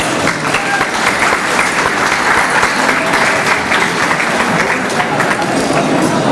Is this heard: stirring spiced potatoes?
no